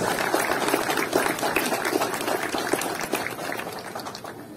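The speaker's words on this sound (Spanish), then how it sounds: "Fuerte los aplausos, por favor, de todos los presentes." Applause from a crowd gathered at a patriotic flag-raising ceremony in Chilete, Peru, heard as a steady wash of many hands clapping at a moderate distance, sustained throughout without speech over it.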